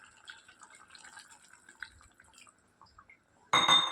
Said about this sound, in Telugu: ఇప్పుడు మనము ఒక టీ గ్లాస్ అని వాటర్ యాడ్ చేసుకుందామండి.